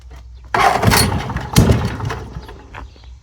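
An old Kohler engine on a Goodall Start-All, long left sitting, sputters and chugs roughly in two loud bursts after a quiet start, struggling to catch and fading unevenly, close up with no talk.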